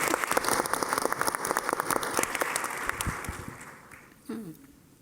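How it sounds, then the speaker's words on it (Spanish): An audience claps at a literary gathering honoring writer Irene Vallejo, with a dense scatter of handclaps that thins and fades toward the end, where a voice begins speaking. "Vamos a aplaudir."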